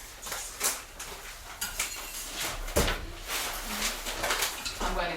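Ceramic plates clink and rattle as one is taken out in a home kitchen, several short knocks and scrapes close by, with a cupboard-like bump among them.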